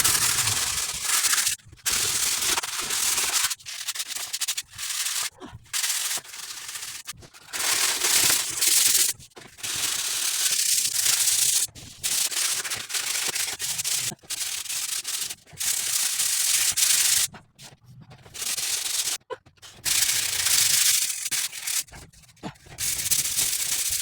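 Sheetrock being sanded by hand, heard as steady rough rasping strokes that come in long bursts separated by short pauses, close and fairly loud, with no talking.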